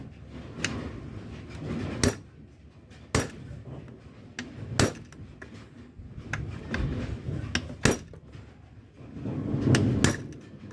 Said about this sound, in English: I've just got a little punch here, and I'm just going to punch this.